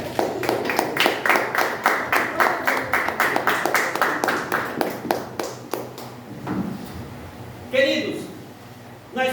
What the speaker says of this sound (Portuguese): Pode aplaudir o Senhor porque Ele merece.